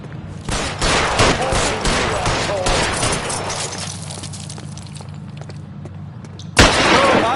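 A loud, dense volley of gunfire rattles through an L.A. Noire shootout, with shots thinning out before another sharp burst near the end and voices shouting beneath.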